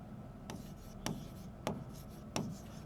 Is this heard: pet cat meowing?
no